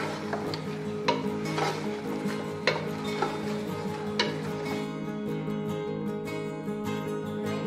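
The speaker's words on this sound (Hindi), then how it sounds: "और इसको घुमाएंगे, अच्छे से मिक्स करेंगे इसको" A spoon keeps stirring chicken and potato curry seasoned with salt and black pepper, scraping and tapping against the pot in a steady rhythm over a low simmer, with no one talking.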